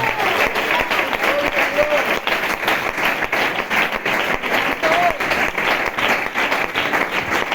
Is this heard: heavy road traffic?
no